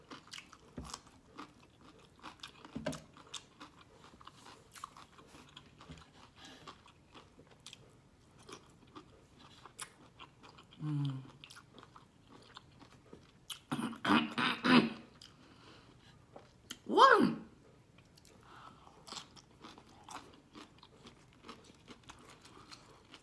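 Someone eats shrimp stir fry on lettuce close to the microphone, with faint mouth noises followed by several short bursts of crisp, crunchy bites and chewing that stand out against near silence.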